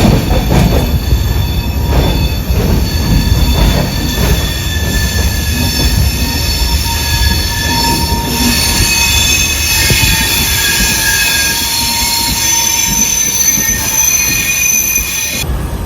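An LHB Madgaon Jan Shatabdi express crosses a bridge over the Mandovi river, its wheels squealing and rumbling loudly and continuously, with sustained high metallic screeches over the steady roll of the carriages.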